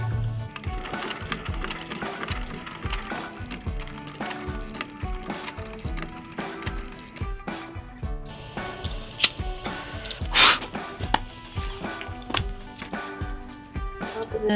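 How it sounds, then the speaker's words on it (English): A sewing machine stitches a leather crossbody bag in short rhythmic bursts of rapid ticking, broken by brief pauses, a few sharp clicks and small clatters, fairly close and alone. "All right, let's sew this up."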